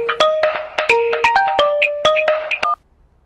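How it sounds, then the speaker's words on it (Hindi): A phone in a South Indian comedy movie scene gives a string of short, sharp electronic tones in an uneven rhythm for under three seconds, loud and close, then cuts to near silence. "फोन बज रहा है।"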